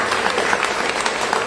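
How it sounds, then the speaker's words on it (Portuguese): A church congregation applauds during a worship service, a steady wash of clapping from many hands for about a second and a half, fairly close and continuous with no clear talk over it. "abençoamos vocês e aplaudimos Jesus na vida de vocês"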